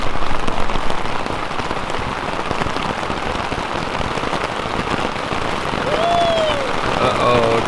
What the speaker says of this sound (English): the rain's picking up pretty good